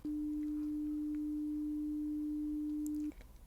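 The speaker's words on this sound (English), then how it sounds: "So this is 300 hertz." A steady 300 hertz test tone from a hearing-exam beep test sounds alone, one clean, loud, unbroken hum lasting about three seconds before cutting off.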